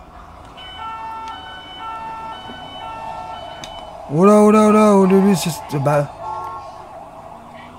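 A gendarmerie motorbike siren in GTA 5 wails loudly and close for about two seconds, then gives a short second burst, rising over a low traffic drone while a man murmurs briefly.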